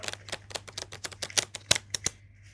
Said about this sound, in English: I've not mastered the art of shuffling yet, but let's have a go.